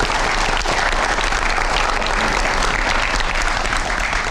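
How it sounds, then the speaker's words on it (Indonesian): Audience applause fills a journalism talk event, a dense, steady wash of clapping from a crowd that carries on evenly throughout without pauses. "Kita kasih tepuk tangan buat Bang Elman."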